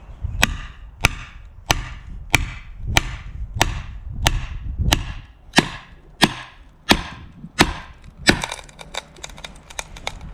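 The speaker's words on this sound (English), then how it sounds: "you can hear the timber now opening up and cracking" Timber split by hand with repeated strikes: about a dozen sharp, evenly spaced wooden cracks ring out close and loud, followed by a burst of splintering crackle as the wood opens up.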